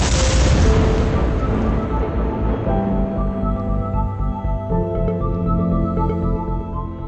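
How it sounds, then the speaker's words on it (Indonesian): A landmine detonates in a film scene with a loud, broadband blast that rolls on into a sustained rumbling boom, with tonal score layers carrying beneath the fading explosion. "tiba-tiba ranjau itu pun meledak"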